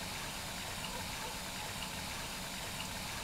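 Tap water runs in the video game My Summer Car, a steady, soft, hissing gush that continues evenly throughout with no voices.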